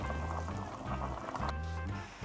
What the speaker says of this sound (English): fill the pot again with fresh water and simmer until the beef tripe is tender